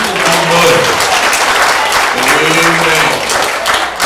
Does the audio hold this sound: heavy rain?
no